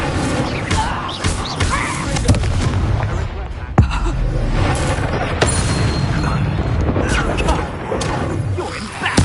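Booming fire-spell blasts and crackling explosions in a Harry Potter video game, loud and dense, with a sharp thump partway through, mixed with game chatter.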